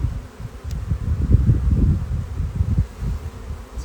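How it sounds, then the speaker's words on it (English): Honey bees buzzing at an open hive during queen rearing, a close, dense low hum swelling and fading continuously, with no voices. "The bees have been going gangbusters"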